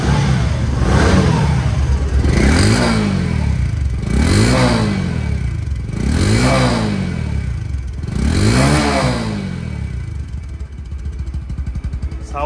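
A 2023/24 Bajaj Discover 125cc motorcycle in showroom condition revs repeatedly, its engine swelling and falling in five even throttle blips about two seconds apart over a steady idle, loud and close, then settling back to idle.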